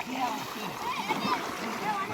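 Rushing water from a single opened dam gate on the Saraswati river roars steadily while someone talks loudly over it nearby.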